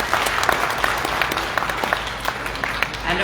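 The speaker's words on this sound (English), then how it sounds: "Let's give them another round of applause" Applause from an audience at the launch event of a keynote address, steady dense clapping filling the whole moment with a few louder individual claps standing out, close and fairly loud with no talk.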